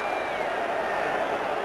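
A large stadium crowd of English supporters roaring and cheering at a 1988 Australia versus Great Britain rugby league test, a dense continuous wash of distant voices under commentary.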